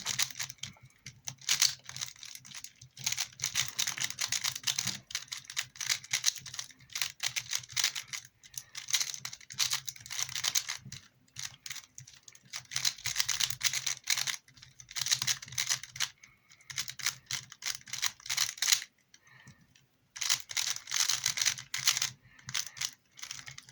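A Rubik's cube is turned rapidly during a solve, producing bursts of quick plastic clicks and clacks in irregular flurries with short pauses, close and fairly soft.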